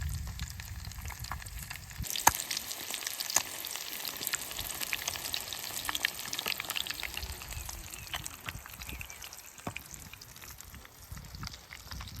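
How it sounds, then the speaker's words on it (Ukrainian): Steady crackling sizzle of crucian carp coated in semolina and breadcrumbs frying in a pan outdoors at a fishing spot, close and continuous, with a few sharper pops and no talking. "і викладаємо смажити."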